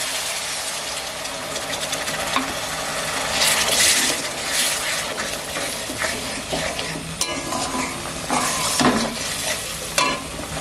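Water poured into a pan of fried spice masala that has released its oil sets off a loud, bursting sizzle with stirring scrapes, rising and falling in waves over a steady frying hiss.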